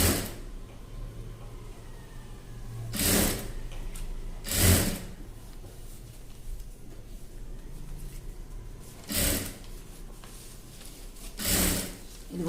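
A sewing machine stitches around the edge of a child's frock in four short whirring bursts separated by quiet pauses, close and clear with no talking.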